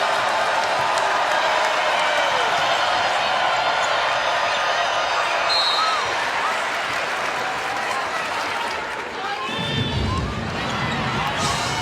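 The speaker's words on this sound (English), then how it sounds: "Crowd's starting to get into it" A basketball crowd in Colonial Life Arena, South Carolina, roars with sustained cheering and applause, loud and continuous throughout, with a commentator talking over the noise.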